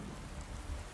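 Rain falls steadily in Skyrim, a soft, even hiss of drops that stays constant with nothing else over it.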